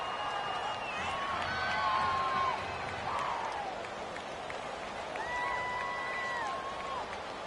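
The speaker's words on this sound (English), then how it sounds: "The crowd here in the Dome making things difficult." Stadium crowd inside a domed arena in a PS4 football video game, a steady distant roar with faint swelling cheers beneath a commentator's voice.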